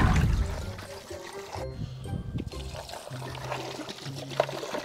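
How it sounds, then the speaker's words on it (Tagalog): Water pouring and trickling onto ice for a homemade slurpee, with a soft splashing gurgle and faint clinks, close by, briefly interrupted midway before the pour continues. "pag nalagyan na natin ng yelo, lalagyan na natin siya ng tubig"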